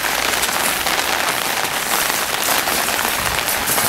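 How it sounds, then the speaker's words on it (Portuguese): Heavy rain pours down at a palace in Kyoto, a dense, steady hiss of drops pattering on surfaces, loud and close with no break and no voices. "Aí, tá chovendo muito aqui."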